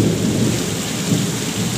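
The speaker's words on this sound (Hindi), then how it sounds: "ये बस मैं दिखाने वाला था कि कितना आज बारिश हो रही है" Heavy rain pours in a dense, loud, steady roar with low thunder rumbling through it, close by and continuous, no voices.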